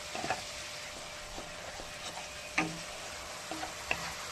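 Spices with a little ginger and garlic sautéing in oil in a pan, a soft steady sizzle with occasional light clinks and stirring taps from a utensil, fairly quiet and close, no talking.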